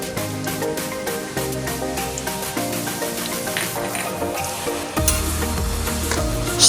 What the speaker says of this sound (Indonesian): nyalakan kompor, lalu panaskan minyak. Sekiranya sudah panas, masukkan bawang putih yang sudah dihaluskan